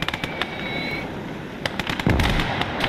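Crackling bursts and pops from soldiers burning under incendiary fire in the WWII game Gates of Hell, a dense run of sharp crackles over a steady roar with a louder cluster of blasts near the end.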